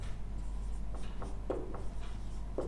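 Pen or chalk writing coordinates during a Class 9 coordinate geometry lesson, a handful of short scratchy strokes over a low steady hum, close and without speech.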